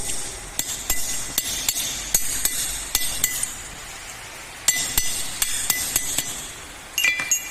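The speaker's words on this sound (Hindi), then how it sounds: "थोड़ा सा पोर्शन है, इसको हम ये चिपिंग कर हथौड़ी से चिपिंग करके निकाल देते हैं" A hammer chips a portion off a metal workpiece in a fitter's practical, producing sharp, ringing metallic strikes in rapid irregular runs, close and loud, with short pauses between bursts.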